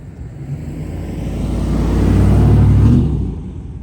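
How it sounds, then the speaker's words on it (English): A vehicle overtakes a slow-moving car on a Florida road, its engine and tire rumble swelling to a loud peak near the end and then fading as it pulls ahead. "I'm gonna let this vehicle pass me since we're kind of moving slow."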